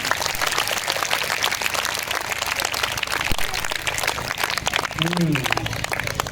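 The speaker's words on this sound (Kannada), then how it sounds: "ಮತ್ತೊಂದು ಜೋರು ಕೈ ಚಪ್ಪಾಳೆ ಹೊಡ್ರಿ ನೋಡೋಣ ಅವರಿಗೆ" An audience claps steadily and densely after a children's Bharatanatyam dance at a Devi Purana gathering. The clapping is a sustained wash heard at a moderate distance, and a voice speaks over it briefly.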